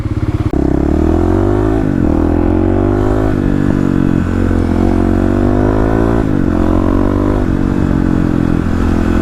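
A Kawasaki KLX351 dual-sport motorcycle rides along, its loud single-cylinder engine droning close by and rising and falling in pitch as it accelerates and shifts, with wind buffeting throughout.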